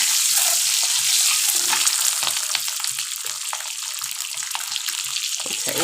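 Eggs sizzling steadily in a hot pan with oil, a dense close crackling hiss that continues throughout with small pops and stirring scrapes, no voices.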